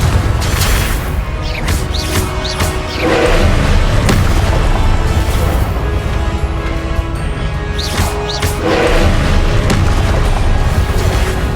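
In the Hogwarts Legacy video game, Confringo blasting spells burst amid a steady, loud combat roar, with several crashing booms and sharp impact thuds standing out over the continuous low rumble.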